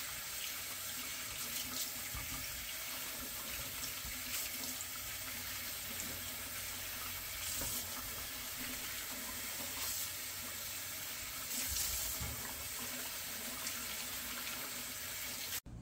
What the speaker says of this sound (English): So we got to get all these tomatoes washed up